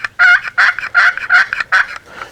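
A chalked wooden friction turkey call scratched to mimic a raspy mature hen, giving a loud, close run of about seven sharp yelping clucks in quick succession with no talk over it.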